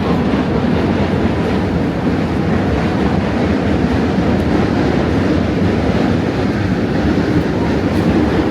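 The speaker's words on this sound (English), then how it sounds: "see the subway going over the Manhattan Bridge" A New York City subway train crosses the Manhattan Bridge, giving a loud, continuous rumbling roar with a faint clatter of wheels, heard from nearby across the river.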